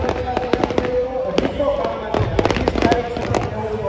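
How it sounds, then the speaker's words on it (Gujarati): Fireworks burst on a hill across from a crowded festival gathering, a dense run of sharp crackling pops and distant booms over steady crowd murmur and voices. "સામેના ડુંગર ઉપર કેટલા બધા ફટાકડા ફૂટી રહ્યા છે"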